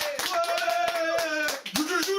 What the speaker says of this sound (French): Il est bon, on l'applaudit.